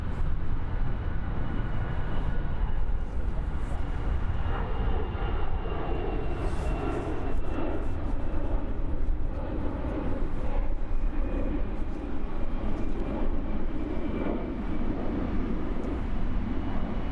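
An Embraer E190 jet departing Frankfurt Main Airport, a loud, steady roar of jet engines close by that holds for the whole stretch without talk.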